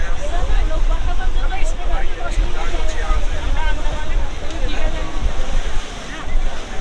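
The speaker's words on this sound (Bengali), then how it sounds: "speed boat" A speedboat crosses choppy sea toward Elephanta Island from Mumbai, with continuous engine rumble, splashing waves and wind buffeting the microphone, close and loud throughout.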